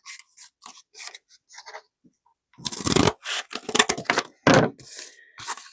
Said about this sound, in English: So I'm just going to trim this down.